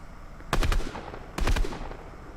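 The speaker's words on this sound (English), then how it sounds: "I put a couple of shots at him, sit back and reload." Two quick pairs of pistol shots in Fortnite, loud and close, separated by a short pause, with no talking over them.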